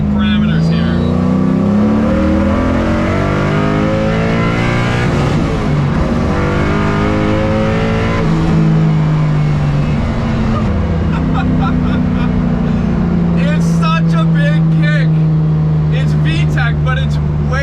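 A 450 hp 1UZ V8 in a Lexus IS300 drift car runs loud with nitrous, its engine revving and shifting in strong rising and falling pitch, with a voice talking over the engine.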